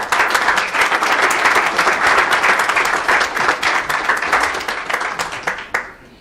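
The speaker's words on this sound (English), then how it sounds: "Please give them a round of applause" An audience at a Hanukkah play applauds cast members' families, a dense burst of clapping from many hands that holds steady and then thins out and fades over about six seconds.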